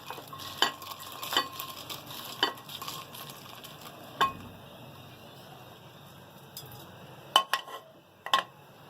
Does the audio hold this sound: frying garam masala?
yes